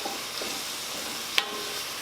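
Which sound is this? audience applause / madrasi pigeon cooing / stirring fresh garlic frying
stirring fresh garlic frying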